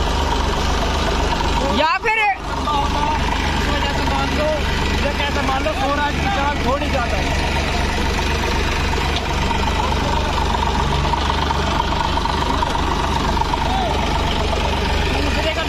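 Massey Ferguson 241 and Swaraj 735 tractors run side by side, their diesel engines a constant loud rumble throughout while someone talks over them.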